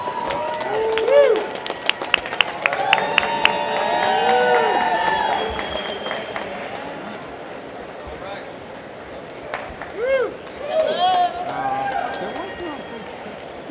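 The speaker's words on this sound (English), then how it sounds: "You guys give them a round of applause" Audience at a Comic Con panel clapping and cheering early on, the crowd noise fading as people talk, with sharp claps and voices scattered through.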